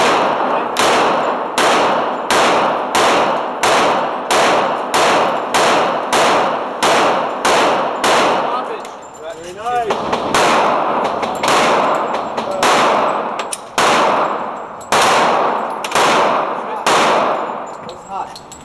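Rapid, regular gunshots from a Glock 19C 9mm pistol at a shooting range, loud and close, with a short pause midway and occasional faint voices between shots.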